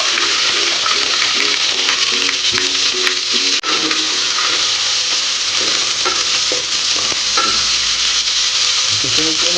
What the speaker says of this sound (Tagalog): mainit na po ang ating cooking oil. Ayan po ay ilalagay na po natin yung garlic.